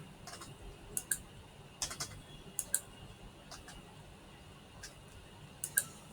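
Sparse keyboard typing while entering marks into a computer form: scattered single clicks and short bursts of keys, fairly faint over a low background hum, no voices.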